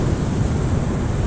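Ocean surf rolling onto the beach at Pantai Senok on a sunny morning with small swells, a steady broadband wash with a low rumble and no distinct breaks, close and fairly loud.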